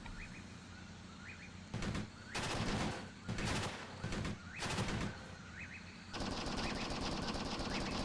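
A heavy machine gun fires in the war game Graviteam Tactics, in repeated loud bursts of rapid shots separated by short pauses, then a continuous stream of fire at the end, with faint bird chirps in the background.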